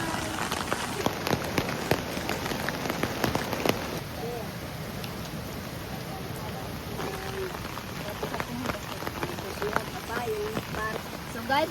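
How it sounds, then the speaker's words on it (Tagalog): Rain falls in a soft, steady patter at a tourist spot, quiet and continuous beneath scattered voices and occasional louder knocks. "Kahit umuulan."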